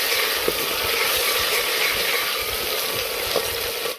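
Onions fry in a pan with a paste of garlic, ginger and green chili for kadhi pakora, a loud steady sizzle with faint scraping stirs, close by and with no talking.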